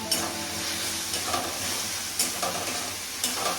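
Yogurt being stirred into a frying fish curry masala in a pan, a steady close sizzle with intermittent scraping stir strokes, no voices.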